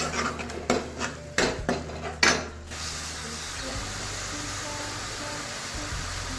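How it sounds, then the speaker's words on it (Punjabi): Tomato puree goes into a pan while a spoon clatters and scrapes against the metal several times, followed by a steady sizzle as the puree cooks. "ਹੁਣ ਆਪਾਂ ਇਹਦੇ ਵਿੱਚ ਪਾਉਣ ਲੱਗੇ ਆ ਪਿਊਰੀ ਟਮਾਟਰ ਦੀ ਬਣਾਈ ਹੋਈ ਸੀ ਜਿਹੜੀ ਨਾਲ ਨਾਲ ਹਲਾ ਰਹੇ ਹਾਂ"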